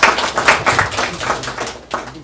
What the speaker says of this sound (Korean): 오늘 발표 수고해 주신 신정일 의원님께 다시 한번 뜨거운 박수 부탁드립니다.